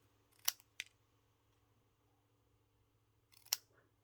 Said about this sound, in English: I'm going to cut this a little closer.